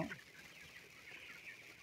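Broiler chickens in a farm shed, some suffering from colds, give one brief clucking call at the start, then low murmuring from the flock, faint and distant.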